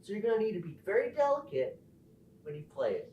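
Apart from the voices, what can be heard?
No everyday noises stand out.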